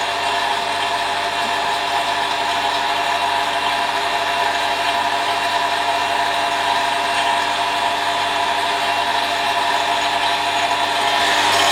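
A vacuum pump runs steadily while evacuating a car's air conditioning system during a repair on a Renault/SsangYong Rodius, giving a constant, loud, even mechanical drone with no break or voices for the whole stretch.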